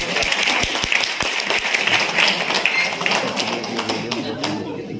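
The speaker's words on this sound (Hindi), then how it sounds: "ताली बजा लीजिए अपने लिए" An audience at a mentor's speech claps for itself, a dense continuous patter of many hands with a few sharper nearby claps, while a voice talks faintly underneath.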